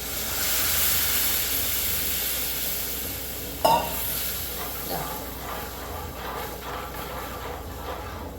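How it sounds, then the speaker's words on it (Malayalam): Masala for a sardine curry sizzles and hisses steadily in a hot pan as it is stirred, with a brief scrape or clink partway through, loud and close with no talking. "ഇങ്ങനെ നല്ലപോലെ മൂപ്പിക്കുമ്പോഴാണ് നമുക്ക് നമ്മുടെ കറിക്ക് നല്ല നിറം വരുന്നത്"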